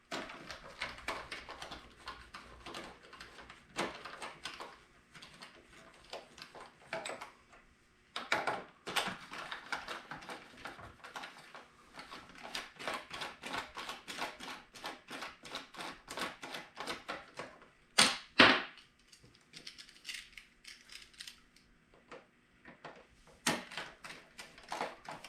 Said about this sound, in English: We have two Phillips screws on the side of the old tail light cover.